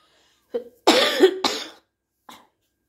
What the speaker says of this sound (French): Désolée pour la toux.